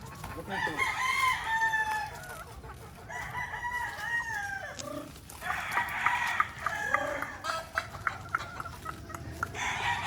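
Several roosters crow and hens cluck nearby in a farm setting with purebred gamefowl, repeated crows rising over steady background clucking while people speak faintly in the background.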